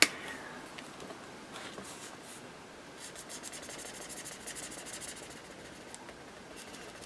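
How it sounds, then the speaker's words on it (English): An embossing pen rubs across paper as a jacket is coloured in, a faint, steady scratchy scribble close by with no talk. "I'm just going to colour over his jacket with this embossing pen."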